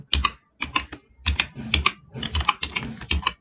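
A computer keyboard is being typed on while writing Java code, with quick clusters of crisp key clicks separated by short pauses and sounding close and clear with no talk over it.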